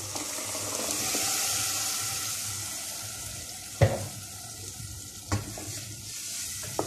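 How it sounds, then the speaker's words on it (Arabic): Tomatoes stirred into frying vegetables in a pan for stuffed mombar filling, a steady close sizzle with a few sharp scrapes and clinks of the spoon against the pan, no talking. "وهقلبهم مع بعض وهسيبها تتسبك"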